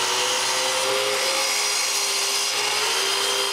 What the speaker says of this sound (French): Ensuite, je peux couper 14 petits blocs.